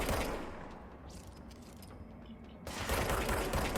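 Gunfire in the video game Control comes as a dense, continuous rattle of shots under a rumbling game soundscape, briefly thinning in the middle before surging loud again.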